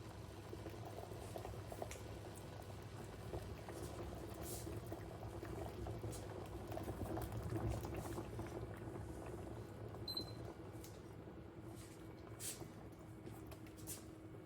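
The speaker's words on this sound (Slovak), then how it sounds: "Knedlíky dám do variacej vody." A pot of water with potato dumplings bubbles at a rolling boil, a constant churning gurgle with small pops, close by and without any talking.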